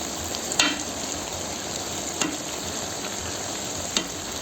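Rice sizzles and crackles steadily in a hot kazan of Tashkent plov as it is stirred, with three sharp scrapes or knocks of the utensil spaced through the constant frying hiss.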